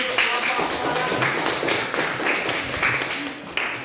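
A classroom group gives a short round of applause, the claps sharp and fairly close with a loose, uneven rhythm, while voices murmur throughout.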